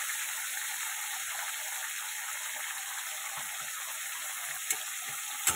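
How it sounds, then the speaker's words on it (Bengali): Aubergine, potato and green chilli pieces fry in oil in a pan, giving a steady, even sizzle close by that carries on throughout with a couple of brief sharp crackles near the end, and no talking. "একটু হালকা করে বেগুন ভেজে নেব"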